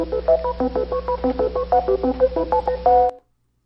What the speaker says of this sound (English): It is the Jeopardy answer board.